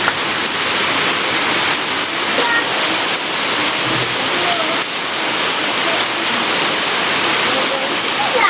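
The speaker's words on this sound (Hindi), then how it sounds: "एकदम से तेज़ बारिश आई है" Heavy rain pours steadily, a dense broadband hiss with spattering on surfaces, loud and continuous throughout.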